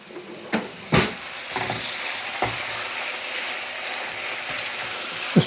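Chicken pieces browning in a frying pan with a steady, close sizzle, broken by a few clattering stirs and pan knocks.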